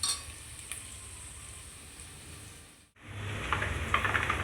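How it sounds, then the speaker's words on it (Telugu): Onions frying in oil for biryani, a steady sizzle that briefly drops out near the middle and then returns louder and fuller, with faint stirring clicks and no talking. "ఉల్లిగడ్డలు ఫ్రై చేసుకుంటున్నా."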